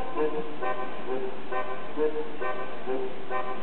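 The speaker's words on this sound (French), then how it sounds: "Les nouveaux klaxons." A new car horn from a video game update sounds in repeated short toots with brief gaps, clear and up close, with no talking.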